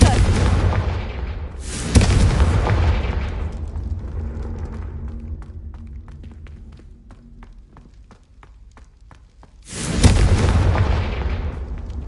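Confringo fire-spell blasts in the Hogwarts Legacy video game: two loud booming explosions, one around two seconds in and another near ten seconds. Each blast decays into a rumbling tail with scattered crackles, and the clip is quieter between them.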